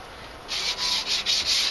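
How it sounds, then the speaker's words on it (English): Light sanding on the side of a computer case, a few quick close rasping strokes in a short back-and-forth rhythm. "do a little light sanding on the sides"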